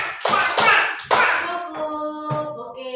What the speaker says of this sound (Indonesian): tepuk 5 jari